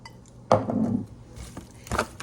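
Steak being stirred with soy sauce and sesame oil in a pan: a few short clattering scrapes and knocks of a utensil against the pan, close and brief, with quiet gaps between.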